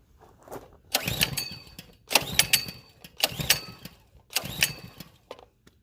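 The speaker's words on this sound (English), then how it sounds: "I'm actually curious to see if it'll fire right up right now without even using the choke" A Coleman CT100U minibike's small engine is pulled over cold without choke in four separate recoil-start attempts, each a short rattling burst about a second long with pauses between, and it never catches.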